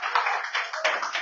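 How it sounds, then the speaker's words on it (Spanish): A church congregation bursts into applause, a dense wash of many hands clapping close together, steady and fairly loud for a short moment. "Denle un aplauso a Cristo Jesús."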